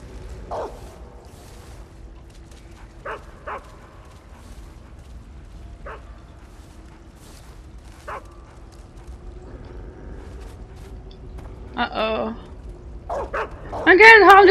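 A dog barking in the Metal Gear Solid 3 video game, heard as a few short, scattered yips over a faint steady background hum, then a louder cluster of barks toward the end as a voice talks.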